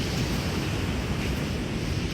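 Big ocean waves surge and wash continuously onto a misty beach near Gold Beach, Oregon, a steady broadband roar with wind buffeting the microphone throughout.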